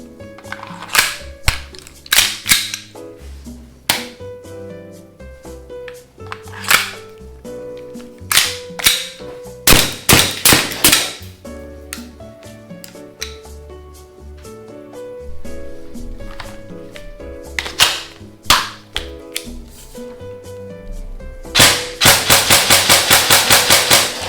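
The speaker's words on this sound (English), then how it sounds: "Anyways guys, let's go shoot some guns." Airsoft guns firing in a varied series of sharp pops and snaps, single shots mixed with quick bursts, ending in a fast rapid-fire string near the microphone, over a busy music-like background.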